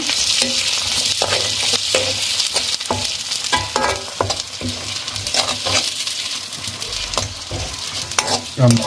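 Onion, green chilli and grated coconut sautéed and stirred in a pan for fish curry, a steady sizzle with repeated scraping spoon strokes, close and continuous with no voices.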